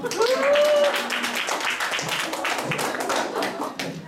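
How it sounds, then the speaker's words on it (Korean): Audience clapping at a Korean lecture, a brisk round of hands from a small group, fairly close and loud, with a whistle-like tone early on and faint voices underneath. "박수 한번 쳐주세요"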